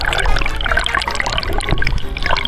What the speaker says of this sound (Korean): 이 물살이 확실히 여기가 빠르네요. 파도도 좀 있고.